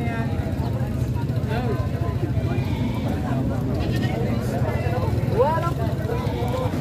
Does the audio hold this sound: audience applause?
no